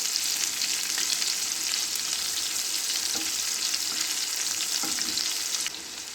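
Stuffed tinda cooking in a pan over low flame, a dense, even sizzle of frying with a couple of faint knocks as the pieces are turned, ending slightly quieter.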